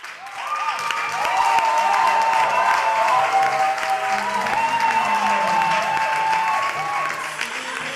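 A studio audience at a TV talent competition applauds the first contestant, a sustained wash of clapping with some cheering that holds steady for several seconds before easing off.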